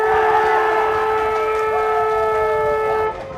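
Final siren at an Australian rules football match at John Flower Oval, a loud sustained multi-tone siren wail held steady for about three seconds before cutting off.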